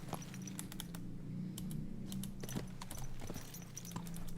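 Horse hooves clip-clop at a steady walking pace in Kingdom Come: Deliverance 2, a medieval role-playing game, with light clicks over a low ambient rumble and no voices.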